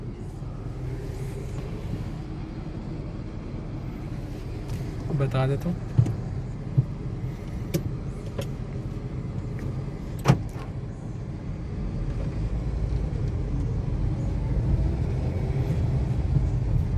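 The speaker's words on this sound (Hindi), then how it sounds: "गाड़ी की साउंड आप चेक कर सकते हैं कि रूम के अंदर इसकी कितनी साउंड आती है।" Suzuki Liana car heard from inside the cabin while driving: a low steady engine and road rumble, building slightly toward the end, with a few clicks and knocks and someone talking briefly over it.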